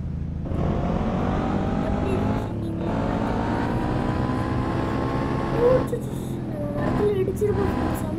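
A revving video-game motorbike engine with smooth rising and falling pitch, continuous and close, with short dips as it shifts, under occasional voice.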